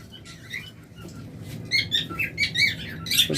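A pair of lovebirds give rapid, high, squeaky chirps in quick clusters that grow busier and louder toward the end, over a low steady background rumble.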